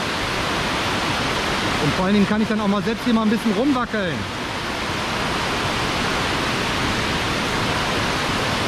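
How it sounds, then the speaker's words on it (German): A waterfall, heard from above near a suspension bridge, roars with a dense, constant rush of water throughout, while someone talks briefly over it in the middle. "Also einmal hier von hier oben auf den Wasserfall"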